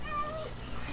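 A single drawn-out meow from a cat in the Minecraft video game, clear and close against a low steady hum.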